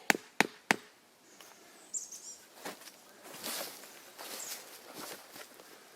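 Three sharp metallic strikes hammering a tent stake into rocky ground ring out in quick succession, followed by scattered softer knocks and rustling outdoors.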